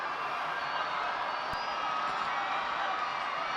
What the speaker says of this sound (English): The Raider crowd revving it up.